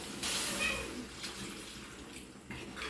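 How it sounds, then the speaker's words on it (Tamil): A medium tumbler of water is poured into a simmering dry prawn, brinjal and drumstick kuzhambu, giving a faint, continuous splashing pour that lasts a few seconds. "ஒரு மீடியமான சைஸு ஒரு டம்ளர் வந்து தண்ணி ஊற்றிருக்கேன்."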